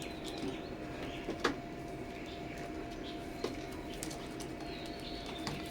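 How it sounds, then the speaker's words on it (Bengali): Teddy pigeons of an imported Oman bloodline cooing softly in a loft, a few low murmuring coos over a steady hum of background noise, with a couple of sharp clicks and no talk. "আর কবুতরগুলো খুবই চঞ্চল,"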